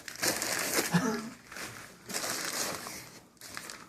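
Newspaper packing crumpled and crinkled while three knives are unboxed, with soft rustling bursts in two main spells and a brief quiet gap between them, close and fairly faint.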